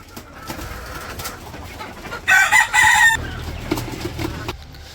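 Chickens in a village setting, with one loud, drawn-out crow-like call of about a second standing out mid-clip over softer background clucking and rustling.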